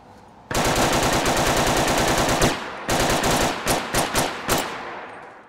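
A modded VZ-52 rifle firing in Fallout 4, first as a long rapid automatic burst, then after a pause as a series of distinct separate shots, loud and close.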